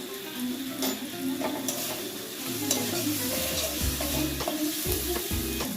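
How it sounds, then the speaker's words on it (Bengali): Spices sizzle and crackle in hot oil while a utensil stirs and scrapes the pan in irregular strokes, close and fairly loud. "এবার ভালো করে ভেজে নিতে হবে।"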